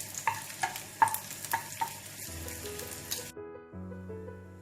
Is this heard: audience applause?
no